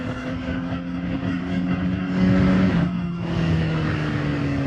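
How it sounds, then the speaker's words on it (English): A CFMOTO 750SR-S motorcycle engine hums steadily and rises into a louder rev as the throttle is applied smoothly, then eases slightly, heard close with a continuous engine drone. "Let's apply the throttle smoothly."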